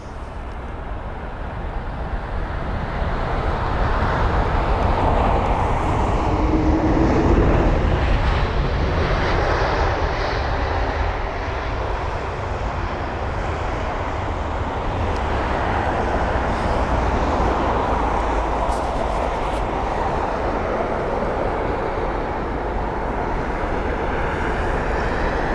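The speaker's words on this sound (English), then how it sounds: "you've got the Aegean Airlines A350 with a special livery" An Aegean Airlines Airbus A350 in special livery arriving at London Heathrow, its engines producing a loud, sustained broadband roar that swells and holds steady for the whole stretch, with no talk over it.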